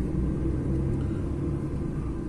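A DAF XF 480 truck pulls onto the highway, its engine giving a steady, loud low rumble throughout with no voices over it.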